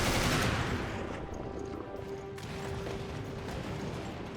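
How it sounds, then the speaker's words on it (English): Magnum gunshots in the video game Resident Evil Revelations aimed at a large rock monster: a few sharp, heavy reports over a busy background of game effects, moderately loud. "the magnum to the weak spot of the big bullet sponge rock monster"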